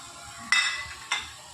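Fried chicken is tipped into a pan and stirred through fried rice: two quick scraping clatters of food and utensil against the pan, close and fairly crisp, with a faint low sizzle between them.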